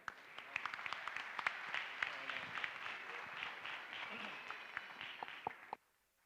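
Applause at a political party candidacy launch, a crowd clapping steadily with sharp individual claps standing out, fairly distant and soft, then stopping abruptly near the end.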